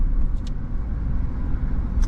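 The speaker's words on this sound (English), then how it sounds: "And there's quite a bit of traffic." Road traffic on the main road through Yosemite after rain, a steady low engine rumble of passing vehicles close by, with a couple of brief higher hisses near the start.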